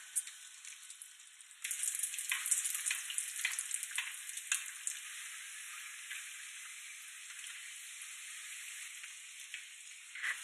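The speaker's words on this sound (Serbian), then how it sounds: "Sipamo ulja otprilike s prsta u tiganj, zagrejamo na neku srednju do jaču vatru i onda ispuštamo da se peku." Food fries in a pan with about a finger's depth of oil over medium-high heat, a quiet hiss that jumps to a busier crackling sizzle and then holds steady.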